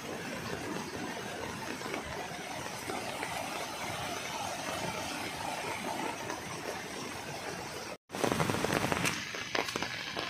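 Dense, steady roar of heavy rain with rushing flood water in the countryside, broken by a brief gap before the wash resumes a little louder.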